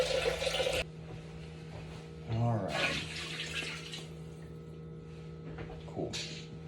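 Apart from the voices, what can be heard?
water running from tap into pot of bones for broth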